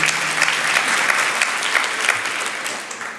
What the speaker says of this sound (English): let's give them a round of applause too for an amazing opening